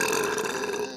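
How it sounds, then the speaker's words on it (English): A single long, loud, throaty burp follows drinking Coca-Cola, held close to the microphone and trailing off at the end. "And it powers my burps."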